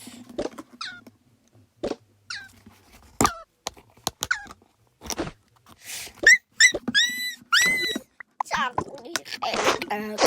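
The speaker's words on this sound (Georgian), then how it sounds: "ჩემი ძაღლი მოვიდა" Excited dog whimpers and yelps come in bursts, mixed with scattered clicks and rustles close by; no clear speech.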